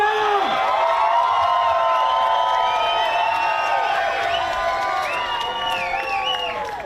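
A large crowd cheers, whoops and shouts at the podium of a Trans Am TA2 street race at the Nashville Music City Grand Prix, a loud, dense roar holding steady throughout and easing slightly near the end.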